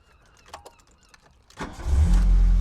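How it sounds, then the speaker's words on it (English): A VW Scirocco engine is restarted: quiet clicks and faint shuffling, then the starter cranks and the engine catches, settling into a loud, steady close idle. "if you'd just like to restart your car for me, please"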